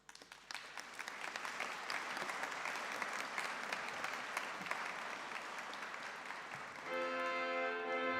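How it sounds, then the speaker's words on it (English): Graduation ceremony crowd clapping continuously and fairly evenly, sustained for several seconds, then tapering as a soft musical tone enters at the end. "You have earned every single moment of applause coming your way."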